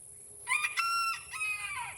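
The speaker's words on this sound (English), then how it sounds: "That chicken gonna keep doing it the whole time." A rooster on a farm crows once, loud and close, a long harmonic call with a drawn-out falling tail over faint background noise.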